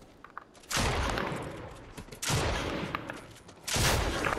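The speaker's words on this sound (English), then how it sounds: "Watch out, there's real people shooting at you." Fortnite gunfire comes in three separate bursts of rapid shots, fairly loud, with short lulls between them and no talking.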